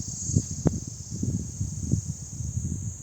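Crickets chirp in a steady, unbroken high trill at a quiet hilltop eco park in Dhanaulti, Uttarakhand, with faint low rustles and soft thumps underneath and no talking.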